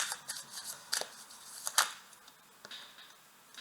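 Tarot cards being shuffled and remixed by hand, a run of soft papery riffles and flicks with a few sharper snaps, close and fairly quiet with no voice.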